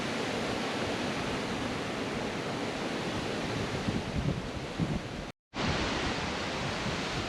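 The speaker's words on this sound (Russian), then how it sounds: "Ветер не прекращается, не дает нам порыбачить нормально." Strong autumn storm wind roars steadily at an October lakeside fishing spot with rain, a dense continuous rush that cuts out briefly before returning.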